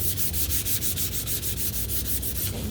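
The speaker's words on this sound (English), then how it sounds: "so I need to sand this. Grab my sandpaper here" Sandpaper rubbed over a painted snowman, a rapid rhythmic scratchy back-and-forth sanding, close and steady, about six strokes per second with no speech.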